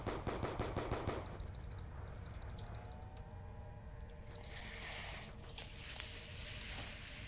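Rapid automatic gunfire bursts from a Black Ops 2 zombies match, a quick rattling volley at the start, followed by quieter game effects and scattered mechanical clicks.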